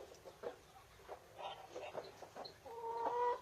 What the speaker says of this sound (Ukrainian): Тут є якісь курчатки ще останні